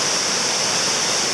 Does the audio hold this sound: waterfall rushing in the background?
yes